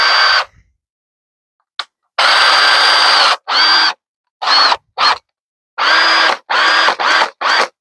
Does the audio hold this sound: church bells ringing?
no